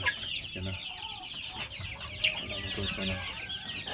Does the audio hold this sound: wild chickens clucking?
yes